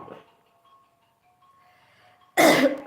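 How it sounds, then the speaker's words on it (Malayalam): After a quiet stretch with faint background hum, a single sharp cough bursts out loudly near the end. "എൻ്റെ ചുമ"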